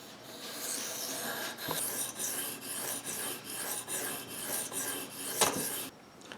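Knife blade drawn across a whetstone during sharpening, a close, rhythmic rasping scrape repeated stroke after stroke with brief pauses and small taps between passes.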